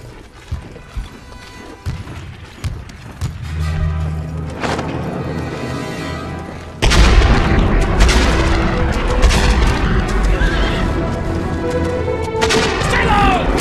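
A movie battle scene: heavy gunfire and booming explosions build up, then erupt into a loud, dense barrage of shots and crashes.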